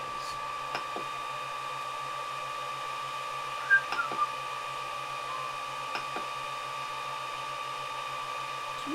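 A 3D printer runs steadily with a constant mechanical whir and faint tonal hum, with a few soft clicks and brief movement noises over about nine seconds.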